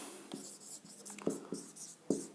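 Pen scratching on paper while notes are written during a classroom lecture, quiet short strokes with a few sharper taps, no talk.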